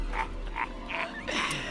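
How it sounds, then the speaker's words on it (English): Cane toads croaking in a quick series of short, nasal calls, four or five bursts close together with a steady background hum, loud and near with no voices. "What about cane toads?"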